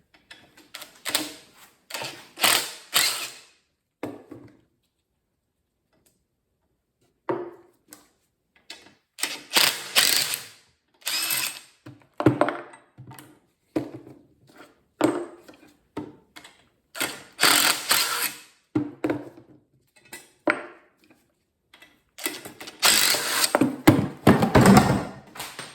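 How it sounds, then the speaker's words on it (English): Hand ratchet clicking rapidly while loosening bolts on a broken commercial mixer, several bursts of close, loud ratcheting separated by short pauses and a brief silence. "I'm just taking off these bolts here."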